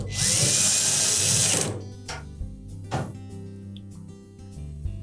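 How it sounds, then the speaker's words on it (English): A power drill drives screws into the panel of a Samsung dryer during door strike repair, one loud sustained whir lasting over a second up close, followed by quieter clicks and handling knocks. "Now we'll put the remainder of those screws in place."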